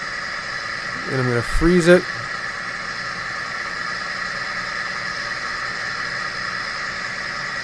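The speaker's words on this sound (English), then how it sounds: "Engine speeds up" A Cummins engine runs with a steady, droning exhaust tone throughout, and someone speaks briefly over it near the start.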